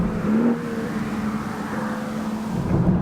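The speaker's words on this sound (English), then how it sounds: "You put your right foot in this car in any gear at any time, it takes off like it's out of a different class of automobile than the other 2." BMW 335i F30 sports sedan accelerating hard, a steady close engine drone with a rising tonal whine that holds for about three seconds and swells again near the end, with no voices.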